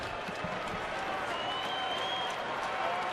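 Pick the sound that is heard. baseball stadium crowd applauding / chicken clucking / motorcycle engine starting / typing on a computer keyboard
baseball stadium crowd applauding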